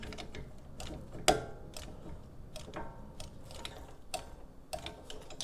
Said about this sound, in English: I have it in between the pistons, and I'm just going to spread it apart just so it can go through